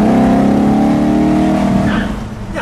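A 1957 Chrysler 300C engine drones steadily under load as it pulls uphill, loud and close, then eases off toward the end.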